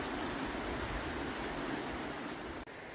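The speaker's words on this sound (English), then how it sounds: "The river was amazing" Cow Canyon river rushing in a steady, loud, broadband wash of flowing water, unbroken and close by, with a brief dip near the end.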